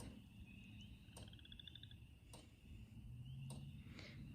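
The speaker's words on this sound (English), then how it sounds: "right now I'm just enjoying listening to the frogs" Frogs call in the distance against a steady nighttime hum, with a few sharp clicks and a trilling call in the middle.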